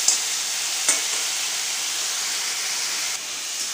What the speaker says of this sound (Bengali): আলুটা ভেজে নিই, এরপরে খিচুড়ি করবো